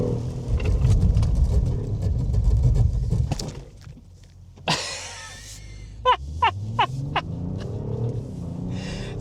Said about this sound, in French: Puis là, je vais mettre les freins à fond